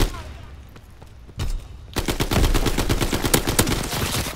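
Rapid automatic gunfire in the Call of Duty: WWII online match, sparse shots at first, then a dense, loud burst of sustained firing close by.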